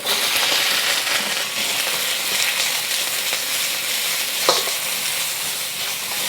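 Ginger and onions fry in an oiled pan for a honey beef dish, giving a steady, close sizzle with a brief clink of a utensil partway through, and no talking.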